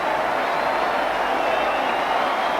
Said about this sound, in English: Francis takes the applause